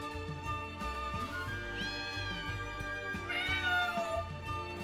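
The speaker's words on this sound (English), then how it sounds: "Man, there's still another cat." A cat meows twice in the video game Triangle Strategy, rising drawn-out cries over looping game music, fairly clear and close.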